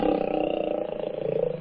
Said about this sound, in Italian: Ah, non è un gatto, è un leone.